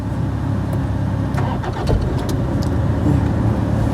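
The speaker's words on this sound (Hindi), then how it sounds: "चलो ठीक है, अब गाड़ी ऑन करो" A car engine is started during a driving lesson: a loud, close cranking burst, then the engine settles into a steady running rumble.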